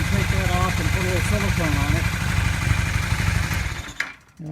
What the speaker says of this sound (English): Okay, but the engine sounds good.